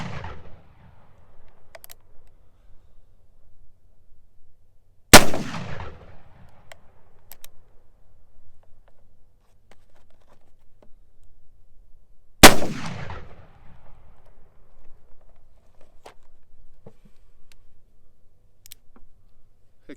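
A Colt Walker black-powder revolver with a long barrel fires two sharp, loud gunshots several seconds apart, each with a short decaying tail, against quiet handling clicks in between.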